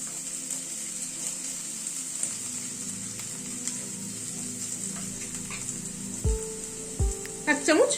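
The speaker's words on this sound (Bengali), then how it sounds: "এখানে 1 চামচ রসুন বাটা দিয়ে দিলাম। রসুনটাকে একটু নাড়াচাড়া করে নিচ্ছি।" Garlic paste with onion frying in a pan over a medium flame: a steady, hissing sizzle runs throughout, broken near the end by a few close metallic clanks as it is stirred.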